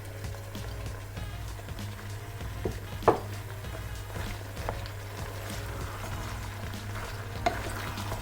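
Carrot and potato cook in a pan for a minced-meat pie filling, giving a steady low sizzle and bubbling throughout with occasional scraping and stirring knocks, close and unbroken, with no voices.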